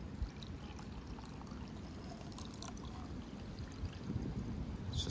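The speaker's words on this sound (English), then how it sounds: "All right, so I got pretty hot water in here." Hot water for a Russian IRP Sturm ration tea pours in a quiet, steady trickle into a container, close and faint with no talking.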